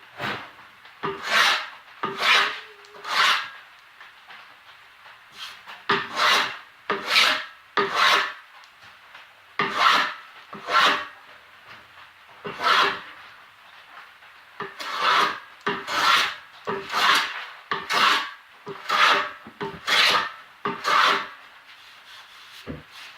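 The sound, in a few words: scraping old glue off a wooden push block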